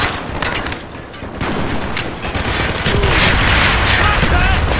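Mortar firing in the video game Call of Duty: Black Ops, set amid a constant battlefield din of booming blasts and gunfire that grows louder toward the end, with shouted voices underneath.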